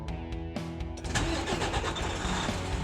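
A DT12 truck engine cranking with a few quick clicks, then catching and settling into a steady, loud rumble close by, with no voices.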